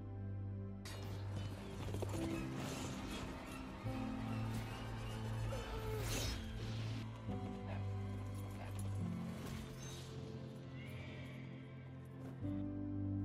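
Hoofbeats of a horse ridden by an approaching headless horseman in a film, steady clip-clop under a loud orchestral score with low sustained tones, continuous for the whole stretch.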